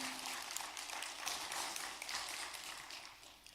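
Audience applause at an Alachua County probate and estate planning summit, honoring Ms. Solomon and her team: a steady wash of many hands clapping at moderate distance, sustained evenly throughout without a break.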